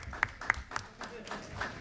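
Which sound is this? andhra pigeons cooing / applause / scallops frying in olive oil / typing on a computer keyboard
applause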